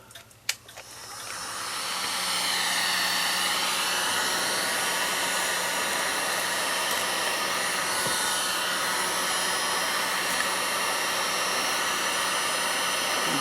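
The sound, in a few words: heat gun heating clock case piece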